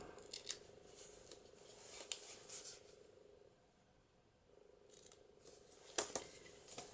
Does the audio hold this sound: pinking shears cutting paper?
yes